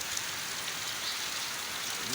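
Heavy rain pours down steadily on a rural cattle-herding settlement in Gir, Gujarat, a dense, unbroken hiss with no gaps.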